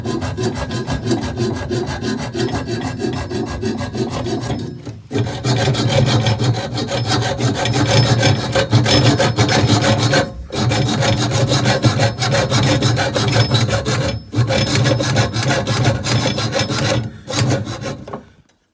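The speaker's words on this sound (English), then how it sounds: "So we went about sort of sawing the remaining pipes off with a hacksaw." A hacksaw cuts through old gas supply pipes during removal of a gas hob, steady back-and-forth rasping strokes close up, loud and continuous with a few short pauses and no talk.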